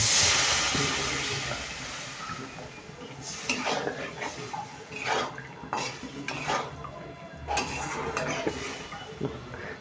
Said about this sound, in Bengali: ঝোল তো ফুটে উঠেছে মা